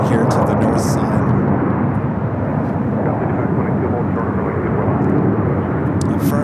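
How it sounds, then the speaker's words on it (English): A Fiji Airways Airbus A350 airliner at LAX airport produces a loud, steady jet roar that stays constant throughout, with a voice speaking over it. "We got that Fiji A350 heading here to the north side."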